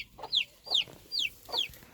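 Silkie chickens clucking nearby in a henhouse in the evening: four short, bright calls repeat at an even pace, about half a second apart, with a quiet background between them.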